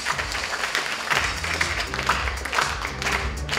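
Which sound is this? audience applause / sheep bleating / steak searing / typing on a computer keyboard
audience applause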